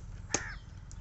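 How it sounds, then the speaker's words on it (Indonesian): A single short, sharp bird call rings out once over low background rumble, faint and somewhat distant, with a tiny chirp following a moment later. "Ini burung lagi ya?"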